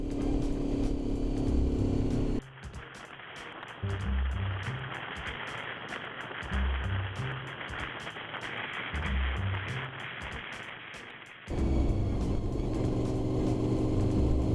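A car climbing the mountain parkway up Mount Greylock in Massachusetts gives a steady engine and road rumble with a low cyclic drone, continuous throughout with no voices.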